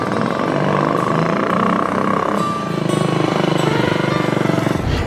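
A restored motorcycle engine runs steadily at close range for several seconds, a continuous throbbing drone with a faint pulsing rhythm and no pauses.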